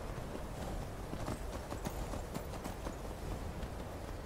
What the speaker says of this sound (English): All right, we're going to do some horse archery now.